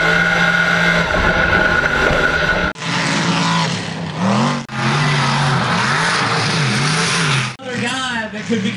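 The Animal mega truck's engine roars and revs hard during a freestyle run at Iron Horse, loud and close, with throttle swells and brief cut-offs between bursts.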